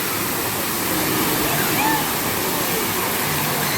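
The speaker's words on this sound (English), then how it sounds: "That is one heck of a splash" A big rush of water pours and crashes from a water park splash tower, a loud continuous roar of falling water filling the whole moment without a break.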